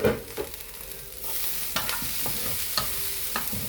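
Dry prawns and grated coconut frying together in a pan, with a steady close sizzle broken by scraping stirs at irregular intervals and a clink near the start; no voices.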